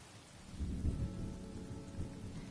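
Rain falling in the video game Honkai Star Rail, a steady low rumbling wash with thunder-like swells building through the middle, continuous and fairly loud with no voices.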